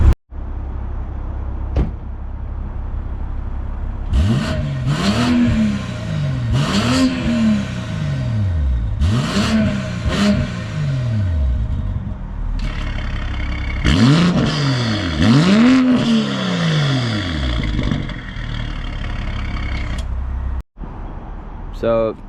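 BMW M340i engine revving hard several times in short bursts with the exhaust valves open, the exhaust roaring and crackling, first louder repeated revs, then a longer series after a pause.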